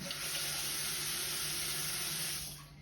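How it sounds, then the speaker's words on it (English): Water pours steadily into a cup of alfalfa and clover seeds for soaking, a close, continuous hissing splash that holds even for over two seconds before tapering off. "Put them in a cup and cover them with rich amount of water."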